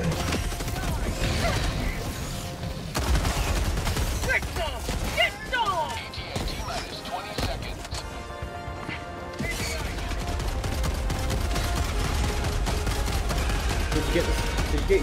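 Gatling gun fire during chaotic combat in the video game Helldivers 2: dense, continuous rapid bursts with crashes and mechanical clatter, loud and unbroken across the whole stretch.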